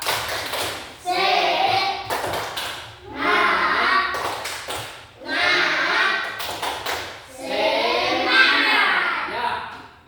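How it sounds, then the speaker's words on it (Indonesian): A classroom of children doing a rhythmic spirit clap, four long bursts of clapping mixed with chanting voices, each separated by a short pause. "kita tepuk semangat dulu ya"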